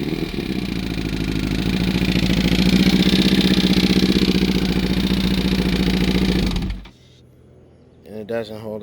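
Engine cranked and revved hard in neutral on a vehicle with a fault that keeps it from holding idle, a loud steady roar for about seven seconds before cutting out abruptly, followed by a brief voice.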